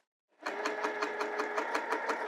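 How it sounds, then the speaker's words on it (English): A sewing machine stitches along a curved binding, a short close burst of rapid, even mechanical clatter starting from silence. "I'm going to sew right in that curve"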